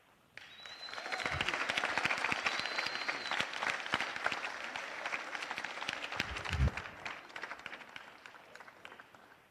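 Audience at a city council meeting applauds an honored coach, a steady wash of clapping from many hands sustained for several seconds, fairly distant and roomy with a few louder claps and faint voices mixed in.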